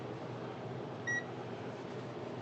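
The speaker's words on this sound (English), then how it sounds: "It's the meter shutting off." A multimeter on a DIY 12V off-grid solar generator build beeps once as it shuts off, a short, clear electronic tone standing out over a steady low background hum.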